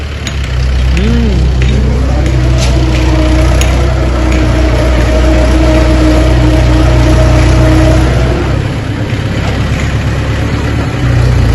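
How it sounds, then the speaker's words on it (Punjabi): A tractor engine runs loud and steady nearby while levelling ground, its deep drone holding even with a faint rising whine partway through. "ਪੱਧਰਾ ਕਰਤਾ ਜੀ ਟਰੈਕਟਰ ਫੇਰਤਾ"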